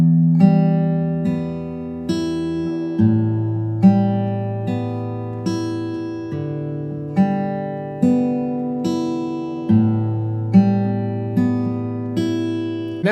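An acoustic guitar is fingerpicked in a slow, steady pattern, single plucked notes over repeating bass strings ringing clearly and evenly for the whole stretch, with no talking.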